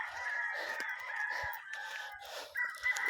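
Roosters crow repeatedly alongside clucking chickens on a provincial farm, several long drawn-out crows overlapping at moderate distance with steady farmyard ambience throughout.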